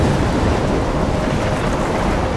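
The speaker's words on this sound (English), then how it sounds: "trapped in a storm?" A thunderstorm in the video game Life is Strange rages as a dense, steady roar of heavy rain and wind, loud and unbroken, with low rumbling underneath.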